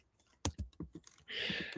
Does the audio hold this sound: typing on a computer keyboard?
yes